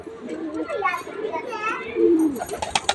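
Pigeons cooing in a home loft where eggs and chicks are kept, the low soft coos running under the chatter of children playing nearby.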